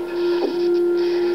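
Portal gun sound effect from a recreation of the Portal video game, a steady electronic hum with a soft warbling whoosh partway through, short and close.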